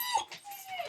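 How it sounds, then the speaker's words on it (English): A dog whines in a short, high-pitched whimper, a thin drawn-out cry heard close by, with no talking. "I'm not the one whining, that's the dog."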